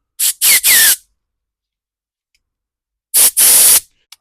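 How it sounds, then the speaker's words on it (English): Carburetor cleaner is sprayed onto an MTD snowblower carburetor in loud close hissing bursts, three quick blasts followed after a pause by two more, the last one longer. "I'm gonna use some carb clean on this."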